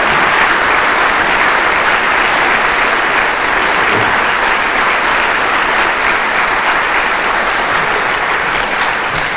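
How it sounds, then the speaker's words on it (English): A general assembly crowd applauds a group of students, loud, even and continuous clapping filling the hall from start to finish. "why don't you give them a round of applause right at the front end?"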